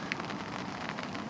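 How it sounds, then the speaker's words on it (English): Steady rain patters on an open umbrella during a fishing session near a flight path, a dense continuous hiss with scattered sharper drop taps, fairly close, with no voices. "Good job I got the brolly up because it's raining"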